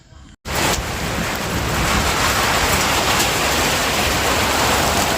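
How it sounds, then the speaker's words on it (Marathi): Steady, loud rain pours down after a brief quiet start, a dense continuous hiss with no talking. "आता पाऊस पडला ना खूप छान असं"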